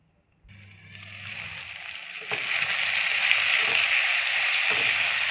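Pepper chicken fries in a pan with a steady, bright sizzle that starts abruptly and swells louder, crackling continuously, with a few faint knocks of a utensil beneath.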